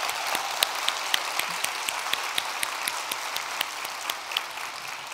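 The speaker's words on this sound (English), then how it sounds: "give her another round of applause for that" Audience applause at a cybersecurity conference keynote, a steady dense wash of clapping from a large crowd that continues at an even level for the whole stretch.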